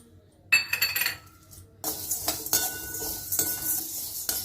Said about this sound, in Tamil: இப்போ கடலைப்பருப்பு பருப்பு உளுத்தம் பருப்பு எல்லாமே ஒரே அளவு தான் இதையும் வறுத்தணும் இந்த அரிசியும் போட்டுக்கணும்